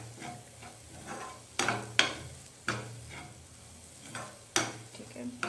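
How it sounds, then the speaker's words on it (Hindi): Turmeric frying with vegetable ivy gourd (tendli) sabji preparation in a pan, stirred so that soft scraping clatters and sizzle bursts arrive in irregular strokes over a steady low frying hiss, close and fairly quiet. "हल्दी को भी अच्छे से इसमें फ्राई कर लेंगे।"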